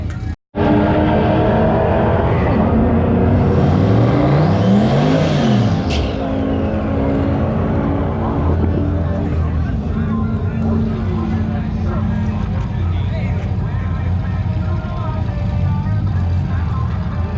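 A drag car launches down the strip, its engine roaring loudly and rising sharply in pitch before settling into a sustained, slowly fading drone.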